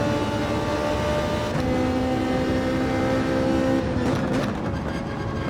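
Engine of a Ferrari or Porsche Manufacturer's Cup race car in a racing video game, a steady loud drone throughout with a pitch shift partway as it accelerates and shifts, alone without talk.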